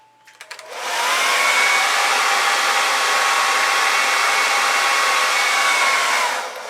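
A hair dryer blows onto fluid acrylic paint on a canvas, switching on after a few clicks and then holding a loud, steady close-up whoosh for several seconds before cutting off.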